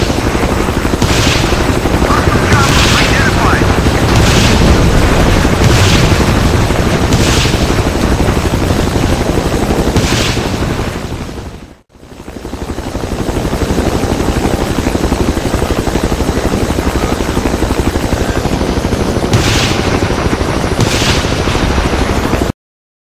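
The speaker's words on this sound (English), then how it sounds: "But who wouldn't want a helicopter that can also drop bombs?" A helicopter in Battlefield 2 thunders loudly and continuously with heavy rotor drone, punctuated by repeated sharp bomb blasts and gunfire bursts, briefly cutting out midway before the roar resumes.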